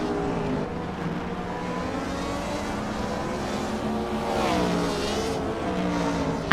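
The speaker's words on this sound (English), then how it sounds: "J-Boogie is driving a 2018 Volkswagen Golf R" A 2018 Volkswagen Golf R engine hums steadily in a racing video game, a continuous mid-pitched drone with slowly rising and falling tones, a slight swell near the end, no talk.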